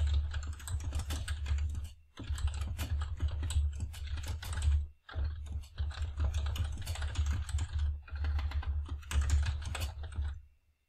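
Fingers type a business name on a computer keyboard in quick, close bursts of clicking keys, broken by two short pauses, with no talking.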